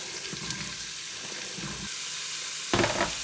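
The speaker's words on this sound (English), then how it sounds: "I am adding in my celery, my carrot, my onion that I just chopped." Chopped celery, carrot and onion sizzling in hot olive oil in a pan, a soft steady crackle with brief stirring scrapes and a louder burst of sizzle near the end.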